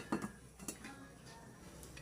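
A pot lid lifts off a pot of sinampalukang manok with a short metallic clank, followed by a few faint clinks of cookware against a quiet kitchen background.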